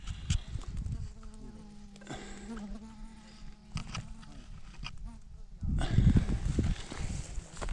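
A bee buzzes faintly near pink flowers along a hiking trail, its drone rising and fading over outdoor ambience, with footsteps, rustling and a louder gust of wind or handling noise near the end.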